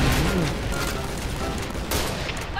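AK rifle fire in the Point Blank video game: a dense, loud burst of gunshots and booming noise filling the whole moment, close and continuous with a sharper flurry near the end.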